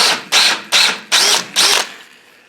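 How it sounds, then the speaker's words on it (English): An electric drill enlarges a hole in a metal Land Rover Defender seat frame in four short, close, loud bursts with brief pauses between them, then stops. "we're going to drill this hole just a little bit bigger"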